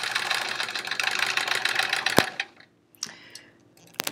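A sewing machine chain piecing quilt pieces runs in a steady close whir for about two seconds. Then it stops with a sharp click, and a few brief taps and a short burst of motor noise follow.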